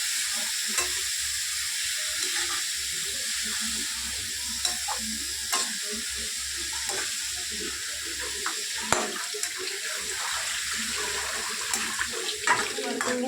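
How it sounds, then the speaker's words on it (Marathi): Cabbage is stir-fried in a pan, with a continuous hiss of frying and the repeated clatter and scrape of a spatula stirring throughout. "छान असं परतून घ्यायचं एकदा."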